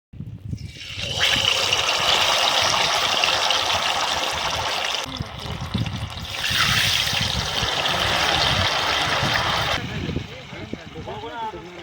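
Water pouring steadily into a cooking pot outdoors at a jungle chicken party, a continuous rushing trickle that stops briefly and resumes, with voices talking in the background.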